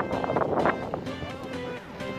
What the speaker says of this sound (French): Il y a du vent, ça m'emmerde.